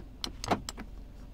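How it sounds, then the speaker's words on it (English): A Nissan Qashqai+2 1.6 Acenta being locked: four short, sharp electronic chirps or latch clicks in quick succession, close by, with no talking. "this is to lock the car"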